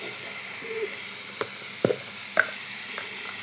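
Curry masala with spices and salt frying in a pan gives off a soft, steady sizzle, broken by a few sharp scrapes and clinks from stirring.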